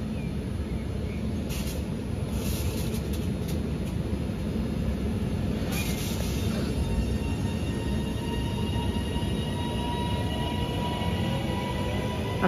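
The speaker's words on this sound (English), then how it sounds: "Departing out now is the 1349 Northern service from Manchester Piccadilly to Crewe." A Northern passenger train, a Class 331 unit, departs Gatley station on the Manchester Piccadilly to Crewe service, giving a steady low rumble and rolling roar with faint high squeals, heard from the platform.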